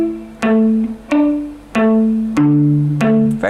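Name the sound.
guitar plucking pattern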